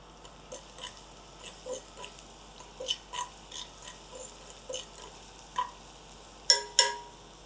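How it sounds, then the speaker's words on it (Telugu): Mustard seeds, cumin, fenugreek, asafoetida and garlic tempering in hot oil, giving soft scattered pops and crackles over a quiet sizzle, with two sharper bursts near the end. "కొద్దిగా పోపు వేస్తున్నాను, 1/2 teaspoon ఆవాలు, 1/2 teaspoon జీలకర్ర, 1/8 teaspoon మెంతులు"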